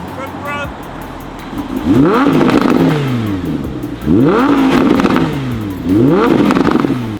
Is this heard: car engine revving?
yes